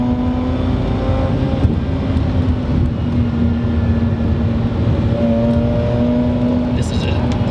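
A Mazda RX-8 rotary engine at full throttle halfway through a corner gives a loud, close, steady high-revving drone whose pitch slowly shifts.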